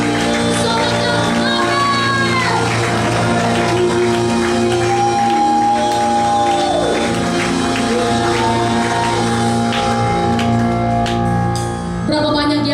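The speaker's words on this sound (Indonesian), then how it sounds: "Sorakan haleluya." A church congregation cheers and shouts together during a worship service, a sustained loud crowd roar with whoops layered over music, continuing for several seconds before briefly dipping near the end.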